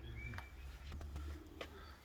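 A racing pigeon lands at its home loft, with faint, soft cooing and bird sounds heard quietly over low background hum in a brief moment.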